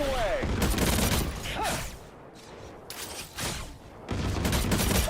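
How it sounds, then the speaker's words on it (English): A rocket barrage fires in the video game Marvel Rivals, with bursts of rapid explosive volleys and whooshes that come in waves and drop into brief lulls. "it should all just hit right here in this circle, just like how this rocket barrage is doing"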